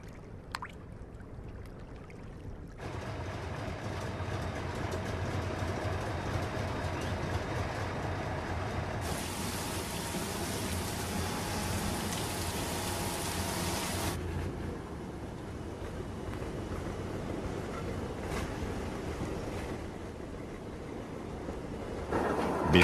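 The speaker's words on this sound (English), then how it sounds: "While the loaded train rolls back into the camps" Loaded salt train rolling across a lagoon, a steady rumbling clatter with hissing wash that swells louder midway and then eases, continuous and moderately distant, with no voices.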